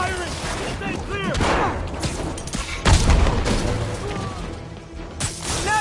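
Rapid bursts of gunfire and crashing impacts in the Spider-Man video game, loud and close, layered over chaotic combat noise with voices shouting in between.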